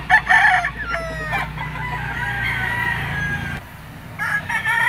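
A bull stag gamecock crows loudly and close by, with a second crow and scattered clucks from other fowl around it.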